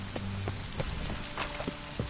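Soft rain patters steadily in a PS4 video game, a low, even wash of drops with a few faint knocks and thuds scattered through it.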